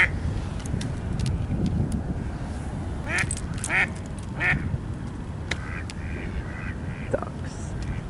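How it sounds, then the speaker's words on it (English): Several ducks quack in short bursts, some near and some farther off, over steady wind and outdoor background noise outside, with no talking. "Ducks."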